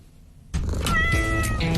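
A cat gives a single drawn-out meow that starts abruptly after a brief quiet moment, close and clear with a rising, wavering pitch.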